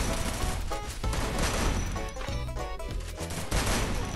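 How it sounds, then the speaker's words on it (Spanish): Dense gunfire in the Free Fire battle royale game, loud rapid bursts and overlapping shots that carry on without a break, with crashing impacts mixed in. "¡Disparo!"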